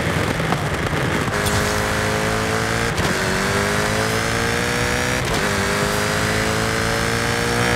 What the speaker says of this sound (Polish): Jaguar robi te takie swoje specjalne wydechy, dzięki czemu te samochody brzmią naprawdę fenomenalnie